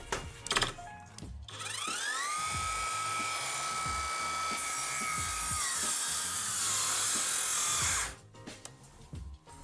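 A Chinese cordless circular saw cuts through thick wood at least 40 mm deep, spinning up with a rising whine, holding a loud steady cutting drone for several seconds, then stopping abruptly amid scattered knocks and clicks.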